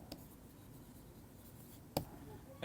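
Chalk or pen writing during a physics lecture, a faint scratching with two brief sharper taps, quiet and close, with no talking.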